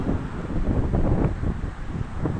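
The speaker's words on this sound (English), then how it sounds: "It's windy." Strong wind buffets the microphone with a low, gusty rumble that rises and falls continuously, with no voices, while cycling on a road in Western Australia.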